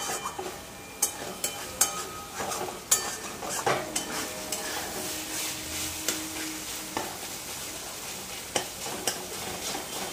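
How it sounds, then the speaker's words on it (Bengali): A vegetarian vegetable dish with poppy seed frying on high flame, stirred with a spatula that scrapes and clacks against the pan in irregular sharp hits over a steady background sizzle, close up with no talk. "এবারে হাই ফ্লেম করে এটাকে ভালো করে নেড়ে চেড়ে একদম তেল ছেড়ে আসা অবধি বেশ ভাজা ভাজা করে নেবো"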